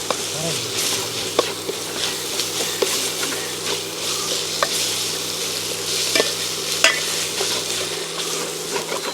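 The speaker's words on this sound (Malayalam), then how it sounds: "മഞ്ഞൾപ്പൊടിയുടെ ആ ഒരു പച്ച മണം മാറുമ്പോഴത്തേന് നമുക്ക് നമ്മുടെ ചിക്കൻ ഇട്ട് കൊടുക്കാം" Chicken pieces go into a hot pan with turmeric and are stirred, giving a steady close sizzle with scraping and clattering stir strokes, while a voice is faintly present.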